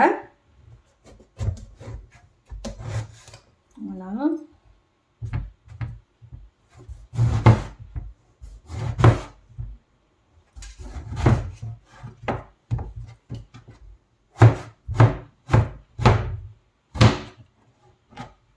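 Knife chopping aubergine on a wooden board for aubergine achar: a steady run of crisp, close chopping strikes in quick bursts with short pauses, with occasional brief talk.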